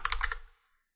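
A computer keyboard is typed on to enter a Linux terminal command: a quick burst of about five close, crisp key clicks that stops abruptly, leaving silence.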